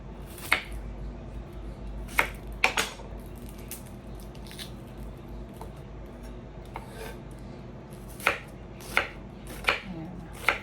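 A knife chops an onion by hand on a cutting board for a hamburger, giving sharp, crisp taps in uneven bursts with quiet gaps between them.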